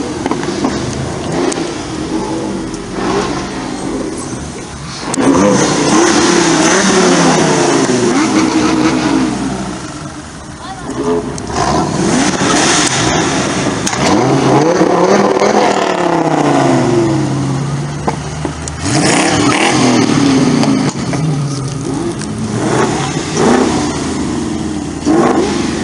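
Supercars in a parade accelerate past one after another, engines swelling loud as each nears and then fading, with revving surges and brief lulls between passes.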